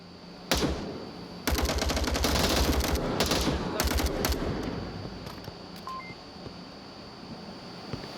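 Rapid bursts of automatic gunfire in the VR shooter game Onward, shots fired through smoke in a competitive match, loud dense rattling volleys followed by scattered fainter shots and a lingering tail.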